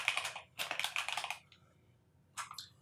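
Rapid clicking bursts of typing on a computer keyboard entering text into a spreadsheet cell, close and fairly quiet, with a brief pause and a final short flurry of keystrokes.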